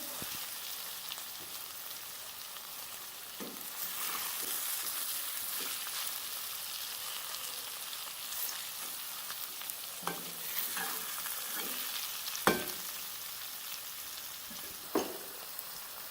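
Carrot halwa with chopped dried fruits is gently stirred in a pan, giving a continuous soft sizzle and hiss broken by occasional sharp scrapes and taps of the spoon.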